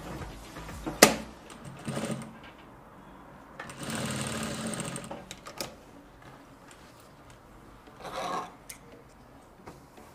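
A sewing machine stitches dress fabric for an off-shoulder cowl neck dress, joining a panel to the armhole in several bursts of whirring run separated by pauses and handling rustles.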